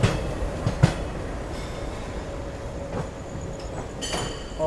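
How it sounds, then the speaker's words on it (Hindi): A Ratlam shunter locomotive on shunting duty at a station, giving a steady rail rumble with a couple of sharp clanks and a faint high whine, and no voices. "यहाँ रतलाम का शंटर शंटिंग ड्यूटी परफॉर्म करते हुए"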